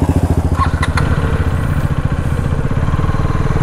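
A KTM Duke 250 Gen 3 motorcycle on a test ride, its engine note steady and loud throughout with a throbbing, rhythmic pulse close to the microphone and no talk.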